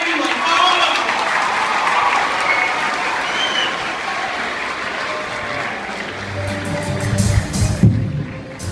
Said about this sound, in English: I would like to have a big applause for everyone